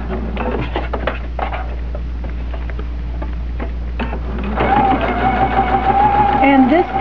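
A sewing machine stitches a fabric mask in quick rattling runs, pausing briefly before a steadier, louder burst near the end, with a person talking throughout.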